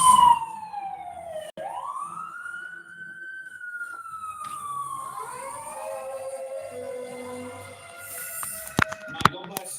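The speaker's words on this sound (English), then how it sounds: "I'm going to let this siren do its thing." A Los Angeles fire department fire engine siren wails in long rising and falling sweeps, loud and fairly close, with a brief horn-like blast near the end.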